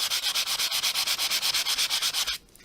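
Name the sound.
sanding block rubbing colour off embossed paper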